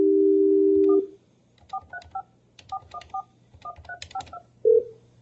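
A dial tone ends, then a touch-tone keypad taps out a phone number into a conference line as a quick, uneven run of beeps. A short final tone closes the sequence, with no talking.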